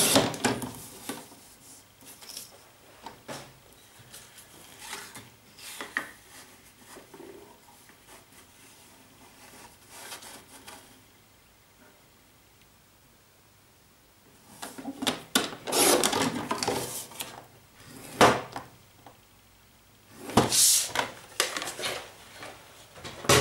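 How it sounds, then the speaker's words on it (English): Marshmallow cardstock being cut to size for a stamped card, with quiet scraping and rubbing at first, then louder bursts of slicing and rasping near the end, with no talking. "I'm going to take the Marshmallow cardstock from the kit and I'm going to cut it"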